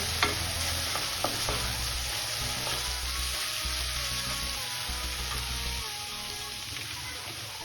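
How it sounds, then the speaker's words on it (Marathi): Masala paste for stuffed idli sautéing in a pan, a dense steady sizzle with scraping stirs and a couple of utensil clinks, close and continuous, no speech. "ही पेस्ट पण आपल्याला परतून घ्यायची आहे"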